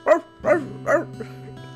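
A dog barks three times in a steady rhythm, close and clear, followed by a couple of softer yips against a faint steady hum; a repeated dog sound effect in the video game Chusingura 46+1.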